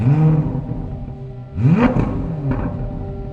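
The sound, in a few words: 2023 Chevrolet Corvette Z06 engine sound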